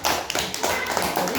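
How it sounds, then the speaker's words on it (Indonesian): A class of schoolchildren in a science lesson applauds together, a loud, close, steady patter of many hands clapping throughout with no talk. "Tepuk tangan untuk semua dulu."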